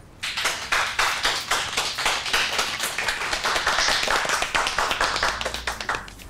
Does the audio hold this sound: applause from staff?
yes